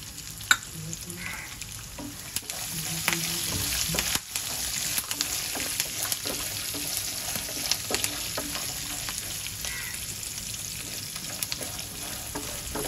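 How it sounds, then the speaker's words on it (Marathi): Mustard seeds and cumin sizzle and crackle in hot oil in a pan while dadpe pohe is being made. The sizzling is close and continuous, with sharp pops and occasional spoon stirring. "मोहरी घालूया, थोडं जिरं घालूया"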